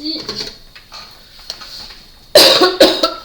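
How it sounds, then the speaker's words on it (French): A person coughs several times in a quick, loud burst near the end, after a stretch of quiet rustling and faint handling noises at a craft table. "je tousse encore un peu"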